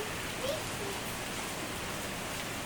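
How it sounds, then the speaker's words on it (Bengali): Afternoon rain among green hills and trees, a soft continuous hiss of falling rain, fairly even and moderately quiet throughout. "দুপুরের টাইমে বৃষ্টি শুরু হয়ে গেছে"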